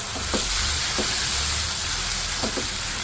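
Green chillies and dill frying in oil for keema matar, a steady broadband sizzle that holds throughout, with a few soft stirring scrapes rising briefly above it.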